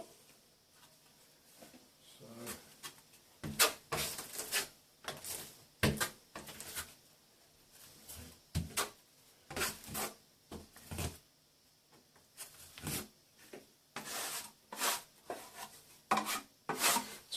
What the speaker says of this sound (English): I'm just scraping off any excess,